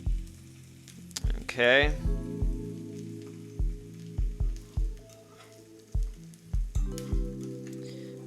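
Sunny-side-up eggs fry in a pan with a soft, steady sizzle, broken by intermittent clatter and knocks of utensils against cookware, and a brief spoken word near the start.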